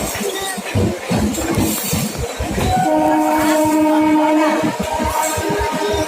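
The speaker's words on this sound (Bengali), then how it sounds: "আমরা লং একসাথে ট্রেনে করে যাচ্ছি" A train travelling, loud rumbling carriages with rhythmic clatter and a sustained horn blast partway through, close and continuous, no talk.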